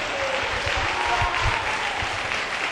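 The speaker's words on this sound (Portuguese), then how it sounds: "Pode dar uma salva de palmas bem forte para ele." Church congregation applauding strongly during a service, a dense, sustained wash of clapping at an even loud level throughout, with a few voices faintly underneath.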